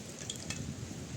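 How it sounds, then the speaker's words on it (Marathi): Fish coated in masala fries in a pan with a steady, close sizzle that runs alone through the short stretch without a break. "इकडे आपले मस्तपैकी आता फ्राय होते."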